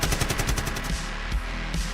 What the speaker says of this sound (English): The shooters cook off one last futile volley of the machine guns, doing little but peck up the ruins.